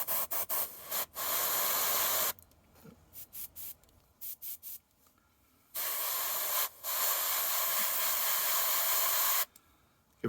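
Short hissing spritzes of spray paint are applied to a model tank wheel, coming in quick bursts and longer sustained sprays with quiet gaps between them.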